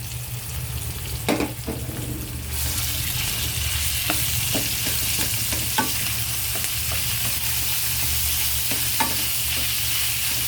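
Ground meat frying in a pan with garlic and onions, sizzling steadily while a spatula stirs it with repeated close scrapes and clicks; no one talks.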